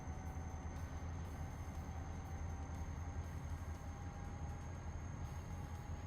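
A train rumbles past a truck in Euro Truck Simulator 2, a steady, continuous low roar with faint tonal hum throughout, no voices.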